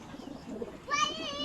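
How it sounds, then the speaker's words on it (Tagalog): Pigeons in a newly built home loft coo near the end, a soft cooing call rising over faint background voices and rustling. "Kalapati."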